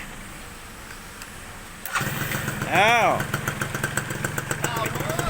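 A Suzuki Swing 110 motorcycle with a hand start kicks into life after a quiet moment, revs briefly, then settles into a close, steady idle while someone speaks over it.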